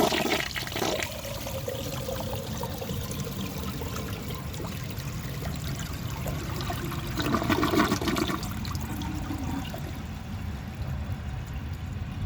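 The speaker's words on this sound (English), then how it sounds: "So I'm going to let that refill and give it another flush" A 1974 Eljer Sanus low-tank toilet flushes with a loud rushing surge of water that settles into a steady swirling drain and trickle, swelling again before fading toward a quieter refill hiss.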